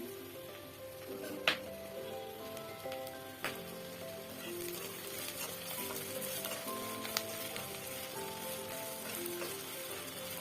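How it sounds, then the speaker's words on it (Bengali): Leafy greens and cauliflower fry in a pan with a continuous sizzle, broken by occasional sharp clinks and scrapes of stirring, close and steady without talk. "আজকে দুপুরে শাক আর ফুলকপি ভাজি।"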